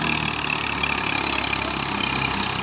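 Tractor engine running a new Seth Muhammad Tufail thresher at wheat harvest, a loud, steady mechanical drone and rattle close by with no break and no voices.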